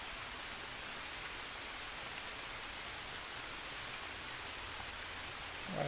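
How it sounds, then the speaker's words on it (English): Steady rainfall in the jungle survival game Green Hell, a dense even hiss of drops on surfaces that holds constant throughout without any talking. "it's already filling back up with the rain"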